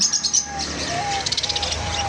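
Budgerigars chirp and tweet rapidly in a busy, close chatter at a bird market stall, with short bursts of calls overlapping throughout.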